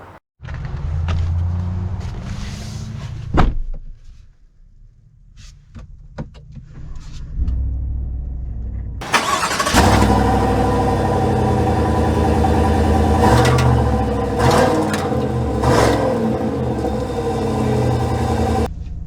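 A 2023 GMC Sierra 1500 Denali pickup heard from inside starts up with a short mechanical whir, then its engine settles into a steady loud cabin rumble and hum as it drives off.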